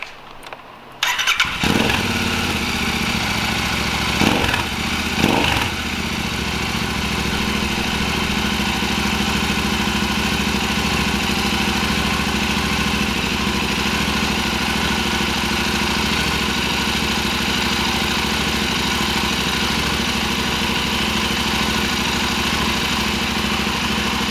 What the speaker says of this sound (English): What I normally like to do now is run the engine for a bit